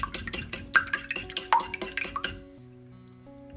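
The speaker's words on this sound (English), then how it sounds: "You give it another quick whisk." A whisk beats a savoury mixture with dried mint in a bowl, producing quick rhythmic tapping and sloshing strokes close up for about two and a half seconds before stopping into near quiet.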